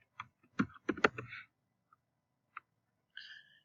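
A few quick computer keyboard keystrokes land in a short cluster, then single isolated taps follow after pauses, close and fairly quiet with no talking.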